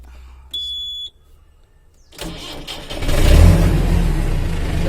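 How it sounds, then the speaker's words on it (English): A JCB backhoe loader sounds a short warning beep, then after a pause its engine cranks, catches and rises into a loud, rumbling idle close by. "So just here we are going to start this vehicle."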